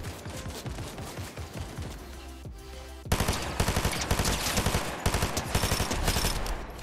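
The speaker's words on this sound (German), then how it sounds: "Oh, man schießt auf mich." Rapid automatic gunfire in the Fortnite video game, sustained bursts of close, loud shots, growing denser and heavier midway, with no talking over it.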